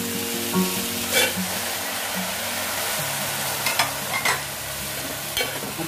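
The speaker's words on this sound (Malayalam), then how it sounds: "അതിലേക്ക് നമുക്ക് തക്കാളി ഇട്ട് കൊടുക്കാം." Chopped tomato sizzling in a pan of frying onions, stirred now and then: a constant bright hiss with a few soft scraping strokes.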